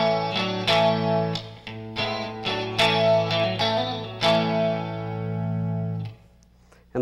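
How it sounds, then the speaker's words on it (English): Electric guitar with the middle and front pickups engaged, picked chords and notes in an uneven rhythm with a few sharp attacks, then a long ringing decay fading out near the end, alone without talk. "And in the fourth position, the middle and the front pickup are engaged, and it sounds like this."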